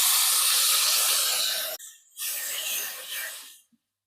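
Tomato pieces tipped into hot oil with lightly fried green chillies, cooking for a Bengali kheer-style katla fish dish: a loud, broad hissing sizzle that cuts out briefly, then surges back and fades away, with no talk over it.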